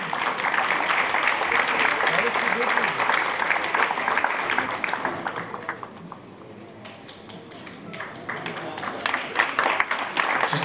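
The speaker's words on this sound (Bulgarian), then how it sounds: "Аплодисменти за Евгений." Sustained audience applause for a conductor at a music competition, dense and close for several seconds, easing off midway, then swelling back toward the end.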